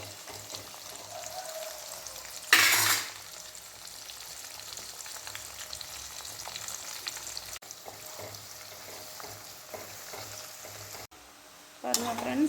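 Perandai (veld grape) frying in hot oil while being stirred, a steady low sizzle with scraping stirs throughout and a couple of brief louder bursts.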